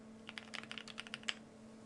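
Keys clack in a quick, irregular run of about a dozen crisp strokes on a Thera 75 mechanical keyboard fitted with case foam, close but quiet, over a faint steady hum.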